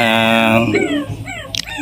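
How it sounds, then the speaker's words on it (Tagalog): A dog whimpers and cries close by, a sustained high whining tone that wavers and bends into shorter yelps, loud and clear against a quiet background. "naiyak yung aso"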